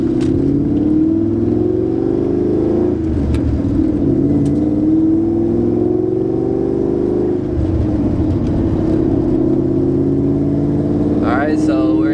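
A Ford Mustang with its sway bar removed pulls steadily in third gear, its engine drone rising slowly and loud throughout from inside the car, with people talking over it.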